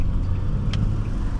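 A 2004 Nissan Maxima 3.5 SE with a four-speed automatic runs as a steady, loud low engine drone from inside the car, with a brief higher swish near the middle and no clear shift break.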